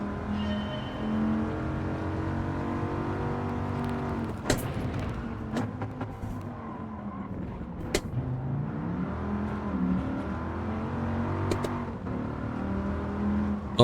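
A car engine in Gran Turismo 7 accelerating downhill through first and second gear on a licence-test course with elevation changes, a loud sustained engine tone rising and falling in pitch, broken by a few sharp shift clicks.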